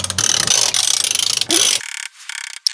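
A ratchet wrench clicks rapidly and close up while loosening the drive shaft flange bolts on a BMW E46, the fast ratcheting running in bursts before stopping abruptly.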